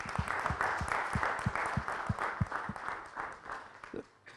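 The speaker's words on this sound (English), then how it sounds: "Let's give you a round of applause." Audience applause fills a convention hall, steady clapping from many hands held for about four seconds before tapering off.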